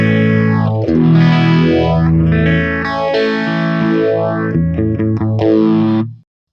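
An Ibanez AZES40 electric guitar played through a Vox Cambridge 50 modelling amp preset, a distorted, chorus-laden riff with a sweeping phaser-like swirl and full bassy tone, ringing steadily before cutting off abruptly at the end.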